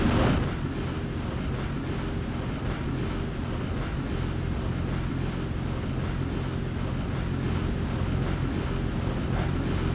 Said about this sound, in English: And you can hear that wind blowing,